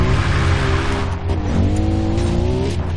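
Quad bike engine in the video game Far Cry 3, a steady loud motor drone with a rising and falling pitch as it revs, plus rough tire noise, with no talking.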